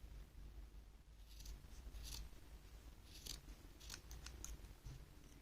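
Scissors cut crochet yarn in a few quiet, close snips spaced a second or so apart over faint background hum.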